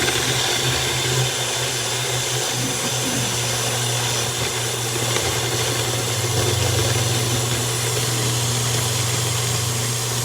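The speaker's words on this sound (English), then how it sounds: "Then we blend again." A kitchen blender whirring through a berry and kale smoothie, holding a steady, loud motor drone for about ten seconds without pause and with no talking.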